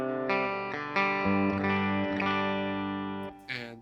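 Clean electric guitar on the bridge pickup: a few sustained, ringing chords strummed one after another, bright and steady, close and alone, with a short fresh strum at the end.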